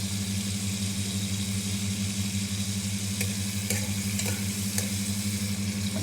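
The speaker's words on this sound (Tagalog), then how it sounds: "Tawsa ang kamatis." Tomatoes sauté in a pan with a steady close sizzle and a few sharp scrapes or taps, over a constant low mechanical hum.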